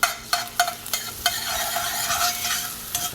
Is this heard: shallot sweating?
yes